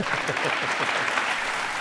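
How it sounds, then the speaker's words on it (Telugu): Audience applause in a television courtroom-style studio show, a dense, steady wash of clapping at moderate level with no voices over it. "అది నిజం కాబట్టే చప్పట్లు కొడుతున్నారు"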